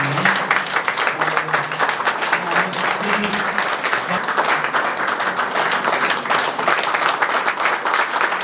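A church congregation at a weekly service in Mahabula, Kuwait stands and claps together, a loud sustained rattle of many hands with a voice speaking briefly underneath early on.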